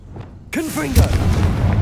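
A Confringo blasting spell goes off with a sudden loud boom in Hogwarts Legacy. A whooshing, warbling burst follows and rumbles on. A voice speaks quietly just before the blast.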